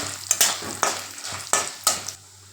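Dry urad dal rattles and sizzles as it roasts in a hot pan, with several sharp stirring scrapes and clicks at irregular intervals over a steady frying hiss.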